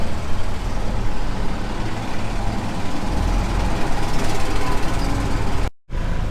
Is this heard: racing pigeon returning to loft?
no